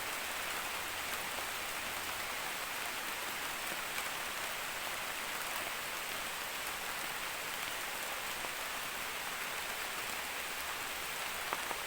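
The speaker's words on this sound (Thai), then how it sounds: "นี่เวลาฝนตกก็ถือว่าสวยงามไปอีกแบบหนึ่งนะครับ" Steady rain falls without a break in a green forest, an even hiss of drops on leaves and surfaces, with no voices.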